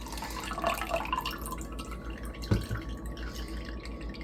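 Liquid drips from a Homeleader electric citrus juicer spout after juicing lemons, a faint close patter with one sharper drop over a low steady hum.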